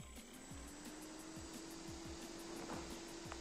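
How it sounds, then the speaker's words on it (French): A noisy cooling fan in an ATX computer power supply whirs steadily, a constant airy hum with a faint whine and light rhythmic ticking, fairly quiet and alone. "Il souffle beaucoup, hein, mais il est très bruyant."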